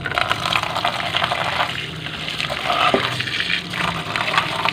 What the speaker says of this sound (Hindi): एक बार और पानी इसको देंगे।